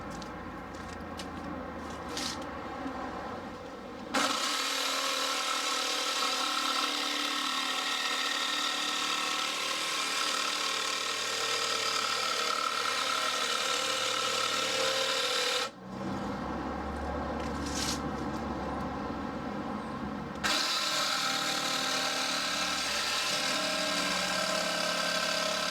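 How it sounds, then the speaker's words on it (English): Power tool cutting waste wood out of the flanges of a large wooden birdhouse built for a pheasant aviary, a loud steady whine running most of the time, with two short pauses where it drops away. "I will now just cut out the waste wood to create the flanges"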